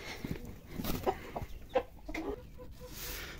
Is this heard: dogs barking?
no